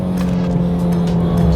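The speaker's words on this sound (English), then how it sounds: "The engine sounds really nice, revs very high." A 1994 Nissan Silvia S14 engine held at high revs while cornering, a loud steady drone with strong low harmonics and a faint tire hiss, no talking.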